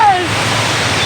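Lake water rushing with force past a road, heard as a loud, steady roar of close turbulent flow with no pauses.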